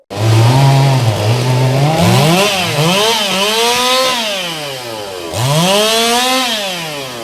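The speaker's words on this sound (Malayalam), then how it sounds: "ഇലക്ട്രിക് കട്ടർ ഉപയോഗിച്ച് വൃക്ഷത്തിന്റെ ശിഖരങ്ങൾ മുറിച്ചു മാറ്റിയത്" An electric cutter cuts through tree branches at a roadside where traffic has been halted. The motor is loud and close, revving up and down in long sweeping pitch swells that continue steadily with no speech.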